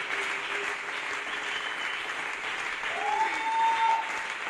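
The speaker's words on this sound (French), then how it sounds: "Est-ce qu'on peut acclamer pour lui? On acclame pour Jésus." A church congregation applauding during a sermon, a dense wash of clapping from many hands with a few voices calling out and a rising cheer toward the end.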